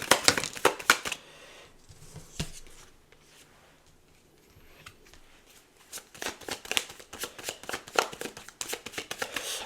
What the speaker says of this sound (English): I'm just going to pull one more card with this kind of communicative.